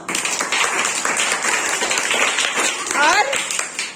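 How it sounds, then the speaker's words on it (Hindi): Schoolchildren clap for a classmate in a classroom during a lesson on communicable diseases. There are a few seconds of quick, uneven clapping from a small group, with children's voices over it. "ताली बजाओ"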